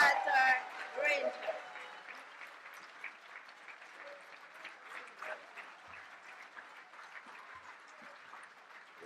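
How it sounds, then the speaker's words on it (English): A crowd at a political launch applauds for David Granger, a burst of clapping at the start that settles into a softer, scattered patter continuing for several seconds, fairly faint and distant. "Rousing round of applause for Mr. David Granger"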